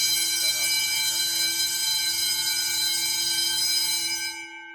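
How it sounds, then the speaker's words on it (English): Many fire alarm bells at a 1990s elementary school built for hard-of-hearing students, ringing loud and steady during a test, layered and out of sync, then cutting off near the end. "There's also so many bells, which I don't get why."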